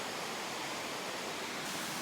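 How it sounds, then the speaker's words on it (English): A waterfall along the North Fork Park trail gives a steady, loud, close rushing roar of falling water that fills the whole clip with no talk. "That is a waterfall"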